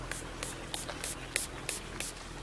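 Würth rain repellent spray hissing from a can onto a car's glass roof, seven short bursts at a steady rhythm, close and fairly quiet, with no talking.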